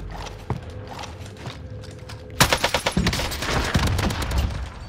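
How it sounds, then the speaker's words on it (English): Gunfire and explosive launches erupt in Warzone Pacific, beginning with sparse distant thumps and then a sudden loud volley of rapid shots and blasts that continue densely through the rest of the moment. "Are they just gonna keep on shooting RPGs on me?"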